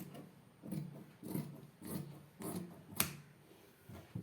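Scissors cutting fabric for a nighty yoke, heard as quiet, evenly spaced snips and rasps about twice a second, with one sharper click partway through.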